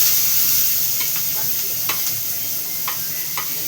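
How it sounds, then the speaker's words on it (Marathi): Chopped onion frying in a pan for a village-style egg curry, a steady close sizzle with occasional stirring scrapes and no voices. "आता आपण कांदा टाकू भाजायला."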